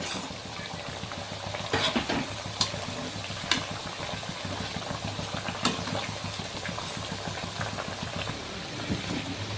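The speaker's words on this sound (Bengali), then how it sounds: "আগেরগুলোর মতনই এগুলি আবার লাল লাল করে ভেজে নিতে হবে।" Thekua, a sweet wheat-dough snack, frying in oil, heard as a continuous close bubbling sizzle with a few sharp clinks and scrapes of stirring in the pan.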